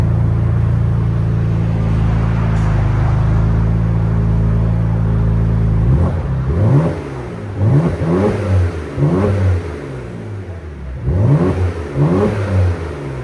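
Porsche Cayenne S with a 2.9L twin-turbo V6 and straight-pipe exhaust idles with a deep, loud rumble, then is revved hard in a series of repeated sharp blips that rise and fall, close and alone without talk.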